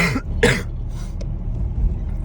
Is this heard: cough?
yes